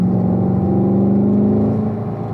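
A car accelerates on a race track during a driving-school session, its engine a loud, close, steady drone rising slightly in pitch before easing off at the end, with no voices.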